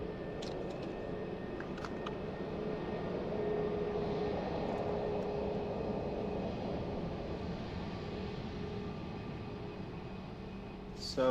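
Airplane taxiing at Lisbon Airport, a steady moderate engine rumble and whine from a little distance, continuous throughout with faint background activity.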